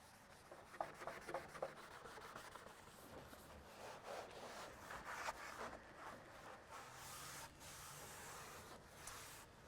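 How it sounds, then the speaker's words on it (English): Faint, repeated rubbing and squeaking against a chrome bumper of a garage-stored Mustang during washing, with soft scratchy strokes in an irregular rhythm. "That's the sound of a chrome bumper."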